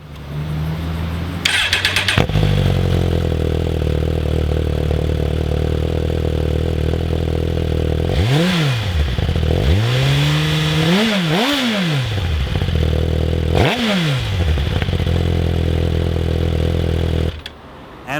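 A Suzuki GSX-R sportbike engine idles steadily, then blips through several sharp revs that rise and fall in quick succession, loud and close, before settling back to idle and cutting off.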